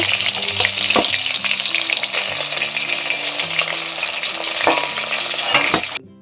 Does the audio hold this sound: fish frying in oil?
yes